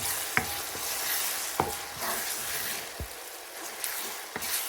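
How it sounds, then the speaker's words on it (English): Two finely chopped onions frying in half a cup of oil in a pan for chicken tikka masala, a steady close sizzle broken by occasional knocks and scrapes of stirring, with no voices. "Pour in half a cup of oil and introduce 2 finely chopped onions. Frying them until they achieve a delightful golden brown hue."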